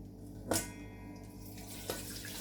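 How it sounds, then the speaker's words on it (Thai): Sticky rice being washed in water at a sink, with quiet running-water sounds and two brief splashes. "ล้างแล้วก็กรอง เอาข้าวไว้นะ"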